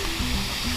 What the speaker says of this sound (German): wir jetzt mitten im Dschungel unter einem 40 Meter Wasserfall